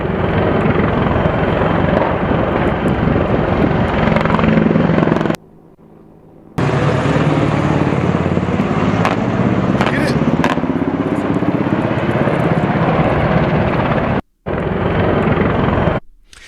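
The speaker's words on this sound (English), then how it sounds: "here is a clip of an H-64 Apache swooping in to protect our citizens and our property there at the embassy" An AH-64 Apache attack helicopter swoops in over an embassy, its loud, steady rotor roar filling the scene close by, broken by a brief cutout and a short gap near the end.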